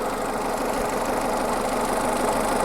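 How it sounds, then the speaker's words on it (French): A car engine idles steadily at close range, an even mid-pitched rumble with a faint rhythmic knock and no talking. "on peut entendre que le moteur tourne plutôt bien,"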